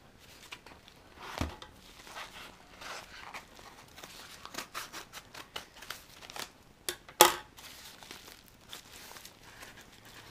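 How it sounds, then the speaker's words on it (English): Scissors snip through the folded-over lid of a package of e-juice bottles, making a run of short cuts and crinkles close up, with one sharper snip standing out. "I'm gonna use the scissors. Just trim off the lid, the top part here."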